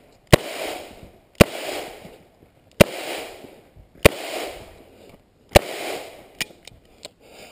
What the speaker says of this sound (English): Today I was again shooting a Second Amendment ammunition